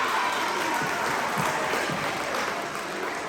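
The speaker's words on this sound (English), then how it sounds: "Clap it up for yourself." Sustained clapping and crowd noise from a gym full of sixth graders at a middle school assembly, loud and continuous throughout with a slight dip near the end.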